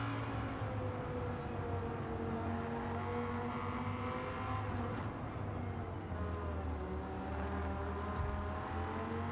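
A Dodge Viper GTS engine drones steadily in the Gran Turismo 7 racing game on Tokyo Expressway, a low continuous roar with shifting harmonics as the car holds speed, with no talk over it.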